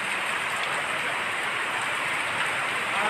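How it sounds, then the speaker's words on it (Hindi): Steady rain falls in Korangi, Karachi, near a madrasa, as a constant close hiss of drops hitting surfaces with no talking. "बारिश हो रही है।"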